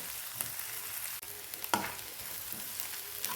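Dried prawns frying in oil in a pan for a spicy curry: a soft, close, steady sizzle with a few sharp pops and light clicks scattered through it, and no voices.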